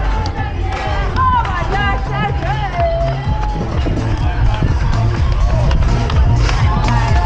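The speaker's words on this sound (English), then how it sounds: "That's the cheer point there." Supporters crowd the finish of a half marathon in Queenstown, a continuous babble of cheering voices and shouts close by, with running footsteps and some clapping mixed in.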